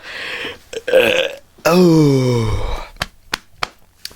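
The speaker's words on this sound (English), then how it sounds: "Big ol' burps." A long, loud burp rolls out with a falling pitch for about a second, followed by a few short breathy sounds and clicks; brief vocal noises come before it.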